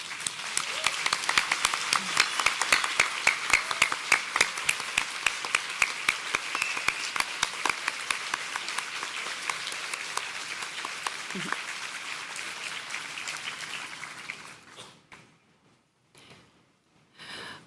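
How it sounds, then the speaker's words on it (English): A scientific conference audience at a closing ceremony gives a long, dense round of applause for the organizing committee, steady and full before thinning and stopping near the end. "we can have an applause for all the organizing committee"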